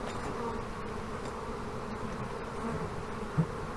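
A swarm of honey bees drones inside an old hive, making a dense, continuous buzz up close that stays steady and unbroken.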